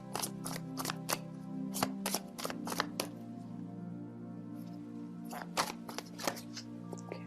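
Tarot cards shuffled and drawn by hand: bursts of crisp riffling snaps in quick clusters, a quieter stretch of soft card handling in the middle, then more shuffling flicks near the end, close and clear over a low steady hum.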